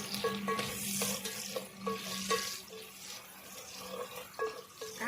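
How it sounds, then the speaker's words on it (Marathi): Chopped onions and a bay leaf sizzle and fry steadily in hot oil, with soft stirring scrapes and clinks of a spatula against the pan throughout, close and moderately quiet. "कांदा लालसर होईपर्यंत परतून घेऊ."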